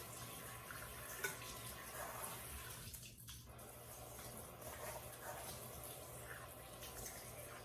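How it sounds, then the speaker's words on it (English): Tap water runs steadily into a sink while a child washes his hands in a home kitchen, a soft continuous splash with a brief lull partway through, and nobody speaking. "while Case is washing his hands"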